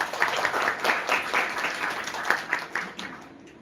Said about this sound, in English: So huge round of applause to Find.